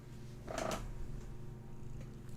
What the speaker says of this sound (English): I hear little baby purrs.